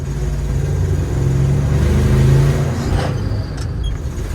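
An old tow truck's engine revs and pulls hard as it accelerates along the road, heard loud and close from inside the cab as a rising, rumbling drone.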